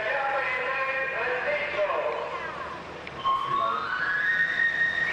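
A street knife sharpener's piccolo-like pan-pipe whistle plays rising, sliding runs of high notes, mostly in the second half, with people talking over much of it.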